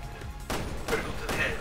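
Gunfire in a shooter video game, three sharp broadband bursts spaced roughly half a second apart, moderately loud against a steady background.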